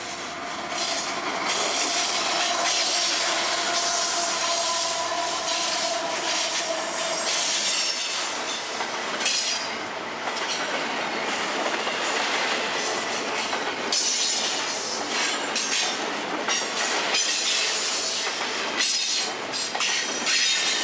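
Intermodal freight train led by a rebuilt Dash 9 and two GEVO locomotives rolls past close by, a steady loud rumble of railcars with wheel squeal and occasional clickety-clack throughout.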